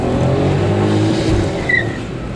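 A car drives a hot lap on the Velopark race track, its engine droning loud and steady from inside the cabin, with a brief higher tone rising near the end and no talk over it.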